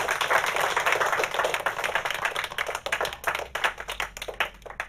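A small group claps at a birthday gathering in a Malay film, the brisk, uneven patter steady at first and then thinning into scattered claps, with no one speaking.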